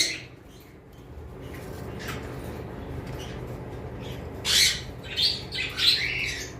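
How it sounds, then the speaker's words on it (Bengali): Black-capped conures squawk in several sharp, loud bursts near the end, with softer chirps earlier over a low background hum in a bird sales setting. "আজকে আমরা শুরু করব যে পাখিগুলো দিয়ে অবশ্য ব্ল্যাক ক্যাপ কোনোর দিয়ে শুরু করব"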